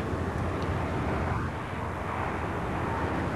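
The engine of a Polikarpov I-15 biplane, a Soviet fighter of the Spanish Civil War era, drones as a steady, broad rumbling roar that stays constant and fairly loud throughout, with no voices.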